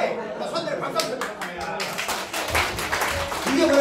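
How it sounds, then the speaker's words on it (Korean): An audience at a lecture claps together in a burst of applause that swells toward the end, with a speaker's voice and some chuckling mixed in. "박수 한번"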